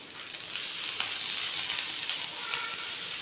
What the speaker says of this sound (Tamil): ஓகே ஆயில் விட்டு ஒரு சைடு வேகட்டும், அதுக்கப்புறம் நம்ம திருப்பி விட்டுக்கலாம்.